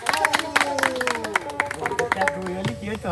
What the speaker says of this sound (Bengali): বিপ্লবের জন্য একটা করতালি সবাই